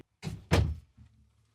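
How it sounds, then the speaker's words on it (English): A door being opened indoors, giving two quick thumps and rattles of the latch and panel followed by a faint low creak, fairly close and otherwise quiet. "Let me open the door and let him get someplace a little more comfortable."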